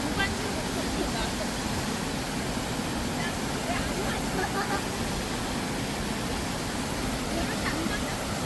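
Yongyeon waterfall in Juwangsan National Park pours with a constant, broadband rush of falling water, steady and close, while people talk faintly over it.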